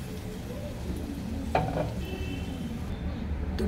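Stirring a hot vegetable curry in a pan after water is added, with a soft low sizzle and bubbling under faint scraping and a brief utensil clink near the middle.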